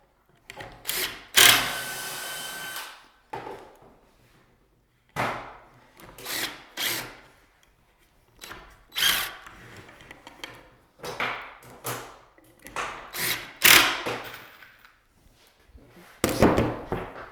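An 18 gauge nail gun fires nails into a wooden cabinet in a workshop, a series of short sharp shots with pneumatic hisses and thumps, roughly a dozen bursts spaced about a second apart.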